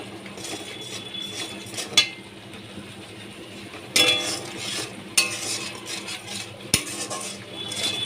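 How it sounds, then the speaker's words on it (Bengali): Spices with turmeric and salt sautéing for a potato paneer curry: a spatula scrapes and clinks against the pan over a low sizzle, with a few sharper metallic knocks. "ভালো করে আমি কষিয়ে নিচ্ছি"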